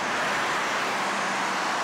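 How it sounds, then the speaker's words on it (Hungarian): Loud, continuous highway traffic roars past at close range, a dense broadband rush of tyres and engines with no gaps or distinct vehicles standing out. "Autópályán vagyunk, hallod."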